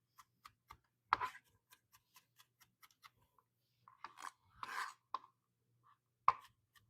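A knife mincing fresh garlic on a cutting board gives quick, regular light taps, with a few louder chops and scrapes between them, close and clear in a quiet kitchen.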